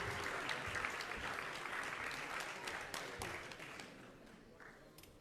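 Fairly faint applause from a fundraiser audience at a temple event honoring donors, a steady patter of many hands that gradually thins out, with a few voices underneath.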